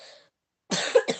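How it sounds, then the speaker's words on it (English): Two quick, close coughs from a sick person, following a brief breathy sound and a moment of silence. "this cough isn't going away"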